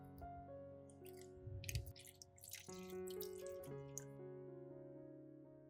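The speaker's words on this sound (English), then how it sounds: "Next, pour the ginger water into an ice tray." Ginger water poured into an ice tray: a liquid stream with trickling, splashing and rising pitch as the compartments fill, close and fairly quiet, with a few clinks.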